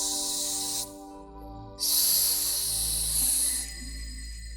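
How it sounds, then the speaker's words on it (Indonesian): A snake-like hissing sound effect for a horror story builds into a loud, sustained hiss, cuts out briefly, then returns stronger and fades over a low droning background. "Suara desisan seperti ular membangunkan Diana dari tidurnya."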